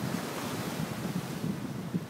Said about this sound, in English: If we're going to get splashed by the waves